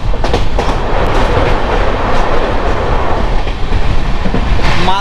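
Inside the Sealdah–Balurghat express at speed near 110 km/h, a steady, loud rumble of wheels on rails with repeating clacks over joints fills the cabin.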